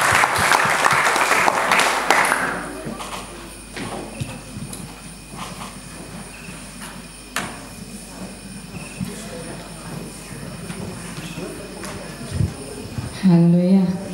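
An audience at a youth camp church gathering claps and cheers in a burst of applause at the start, which fades into a murmuring crowd with scattered claps and voices.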